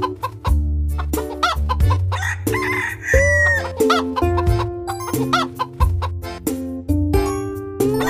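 Bright cartoon-style hen clucks and a rooster crow ring out in quick bursts, layered over a bouncy musical backdrop with chiming notes.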